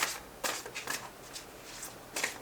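Tarot cards are shuffled by hand in quiet, close, papery bursts, several soft riffles and slides spaced irregularly with short pauses between.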